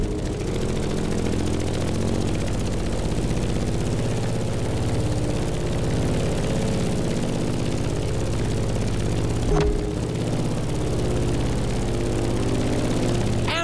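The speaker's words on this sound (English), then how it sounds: "In the cockpit of a stunning GRUMMAN F8F BEARCAT" A Grumman F8F Bearcat piston-engine fighter in the racing game The Crew Motorfest drones with a steady, dense engine and propeller roar that holds throughout, loud and close.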